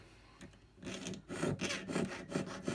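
A jeweler's saw cuts through metal sheet in a close, steady run of rasping strokes, quiet at first and then louder and rhythmic, with no talking.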